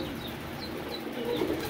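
Young pigeons in a loft coo and squeak softly amid a steady background rustle, with a slightly louder coo near the end.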